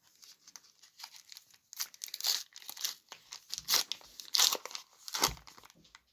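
Crinkling and tearing of a Lego Ninjago Dragon Rising eco blister pack being pulled open by hand, close and fairly quiet, in several crunchy bursts with short pauses between them.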